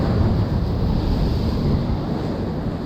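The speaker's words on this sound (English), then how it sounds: "Little waves coming in, but nothing gnarly." Small ocean waves break against a rocky shore as a continuous broadband wash, mixed with wind buffeting the microphone, steady and fairly close, with no voices.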